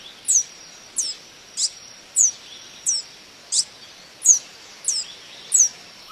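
A tanager sings a series of about nine short, high, downslurred chirped notes at steady intervals, clear and fairly close against a quiet background.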